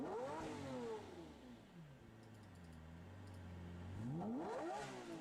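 A Lamborghini 6.5-liter V12 making 670 horsepower revs up, pitch sweeping high and falling back, idles lower, then climbs in another rising rev, fairly faint and without talk.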